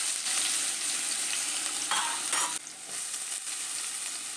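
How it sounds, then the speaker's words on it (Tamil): Finely chopped onions tipped into hot oil after spluttering mustard seeds for chicken kulambu, a loud steady hiss of frying with brief stirring scrapes, close and unbroken. "கடுகு பொரிஞ்சதும் பொடி பொடியாக நறுக்கி வச்ச வெங்காயத்தை போட்டுக்கிறேன்."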